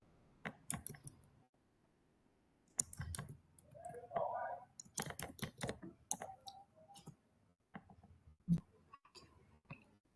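Clicks and keystrokes on a computer keyboard during an online Google Meet call, heard as scattered bursts of close taps and clicks separated by short pauses.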